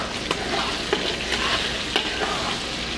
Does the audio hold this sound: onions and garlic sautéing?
yes